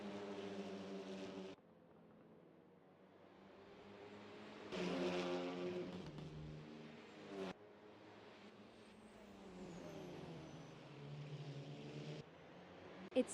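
Race cars in the SMSA Polo Supa Cup roar past with droning engine tones that rise and fall through gear changes, one car following another, fairly loud and steady, with no talking.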